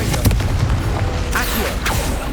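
In the Hogwarts Legacy video game, a Confringo blasting spell detonates in a deep, loud boom with sharp crackling bursts layered over a dense rumbling game soundscape, all within a couple of seconds.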